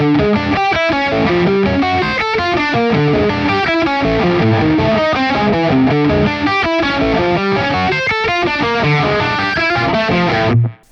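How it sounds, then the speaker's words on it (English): Distorted electric guitar plays a fast, choppy run of tight, palm-muted picked notes in a steady rhythm, ending abruptly. "I would palm mute all of these, really, play with distortion."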